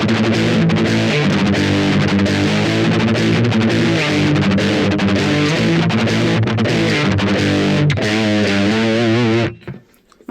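A heavily distorted electric guitar played through a distortion pedal plays sustained chords and notes for about nine seconds, loud and continuous, then cuts off abruptly.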